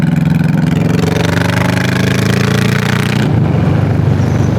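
A Honda Shadow 1100 bobber motorcycle rumbles loud and close with a steady, throbbing V-twin note while being ridden, then shifts to a lower, rougher tone near the end.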